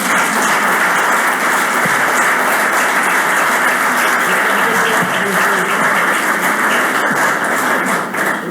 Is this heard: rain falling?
no